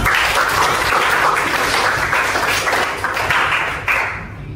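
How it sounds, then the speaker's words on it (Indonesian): Students clapping their hands together in a classroom, a loud dense burst of applause that carries on steadily before tapering off near the end. "Beri tepuk tangan kepada teman."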